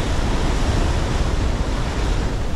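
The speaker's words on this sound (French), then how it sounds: "Là, la mer commence à être un peu fâchée." Rough, choppy sea surging along a shore during a fishing outing, heard as a loud, continuous roar of surf and wash mixed with wind buffeting the microphone, without any voices.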